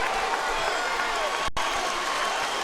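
Crowd noise from the arena at a light heavyweight boxing match between Roy Jones Jr and Jeff Lacy, a steady, even roar of cheering spectators under a commentator's voice.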